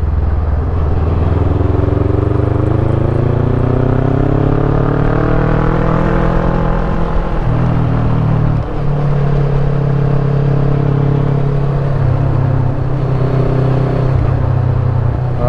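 A motorcycle ridden along a mountain road drones loudly and continuously up close, its engine pitch rising and falling through gear changes.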